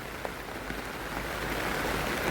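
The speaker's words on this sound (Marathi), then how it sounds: "पाऊस जोरात आला" Heavy rain pours steadily outdoors in a village, a dense broadband hiss that builds slightly louder over the short stretch, with no voices.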